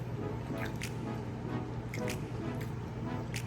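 Hot water poured onto leftover spaghetti gives a soft, steady liquid pour with a few wet squishing drips over a low background hum, fairly quiet and without talking.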